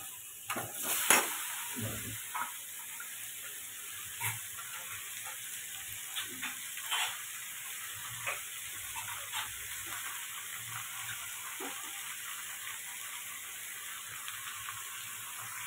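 Bottle gourd (lau) fries in hot oil in a pan with a steady, faint sizzle, broken by a few soft scrapes and stirring clicks, close by and with no talking.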